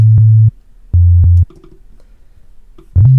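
Sine-wave oscillator tone from a software synthesizer, played as a short low sustained note pattern: three steady bass-register notes with gaps of quiet between them, clean and alone.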